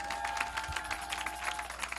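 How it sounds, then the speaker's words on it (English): Church congregation clapping hands in a steady scatter of claps filling a reverberant hall, with a sustained tone from music or organ underneath. "clap your hands one more time"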